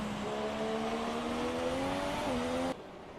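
A bright orange McLaren Formula 1 car in a video game recreating the 2018 Mexican Grand Prix: a steady, high engine whine holds near, shifts pitch slightly as it passes, then cuts off abruptly.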